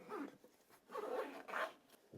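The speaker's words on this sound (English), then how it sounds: "a little rose gold zip with Sony" The rose gold zip on a Sony WH-1000XM4 headphone case is pulled open in three quick, close rasping strokes, with short pauses between them.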